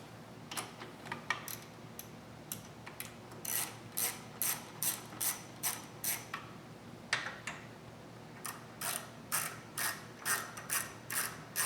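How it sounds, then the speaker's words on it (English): A ratchet with a 10mm deep socket removes the nuts holding the stock airbox on a 2014 Chevy SS, giving quiet bursts of rapid, even clicking that repeat in a steady rhythm with brief pauses, close up and with no talk. "using a 10mm deep socket, we're going to remove these 2 nuts retaining the stock airbox."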